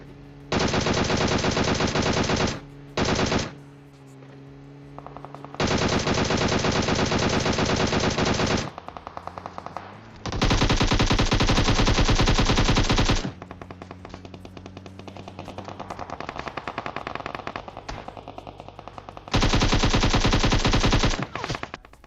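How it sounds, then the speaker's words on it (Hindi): Long, loud bursts of rapid DP-28 machine gun fire in PUBG Mobile, several sustained volleys separated by short gaps with quieter background noise. "अब हमें 2-3 जगह से गोलियां पड़ रही है"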